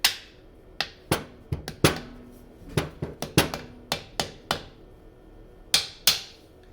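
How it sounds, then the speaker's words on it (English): A hammer knocks a socket onto a worn car starter in a series of sharp metallic taps at an uneven pace, close and loud, and there is no talk over it. "I'm gonna try to hammer this socket on here."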